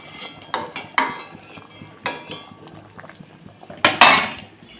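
Half-boiled cauliflower florets are lifted out of a pot of water, with sharp clinks of a metal utensil against the pot and soft watery splashes, a louder cluster of knocks near the end.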